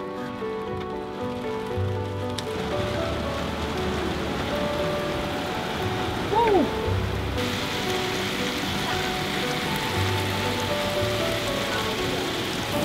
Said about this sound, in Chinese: 然后拍一些下雨的画面呢